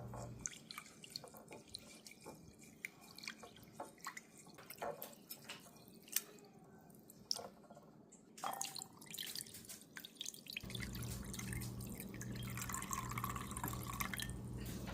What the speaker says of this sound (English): I'm going to go ahead and rinse my rice, wash it and rinse it to make sure the water comes out as clean as possible.